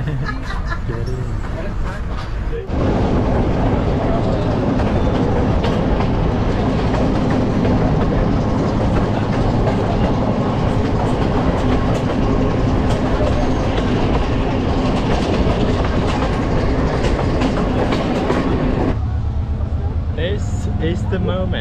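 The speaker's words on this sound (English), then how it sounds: "I'm having the scenic train ride in Sri Lanka from Ella to Kandy" Loud, continuous rumble and rattle of a scenic train in motion between Ella and Kandy, Sri Lanka, with rhythmic clatter of wheels on rails and a murmur of voices in the carriage.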